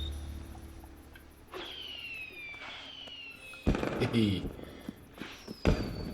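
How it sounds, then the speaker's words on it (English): Fireworks in the video game Assassin's Creed Unity go up with rising whistles, then burst in sharp crackling pops, several launches over a few seconds, while a player laughs briefly. "Fireworks."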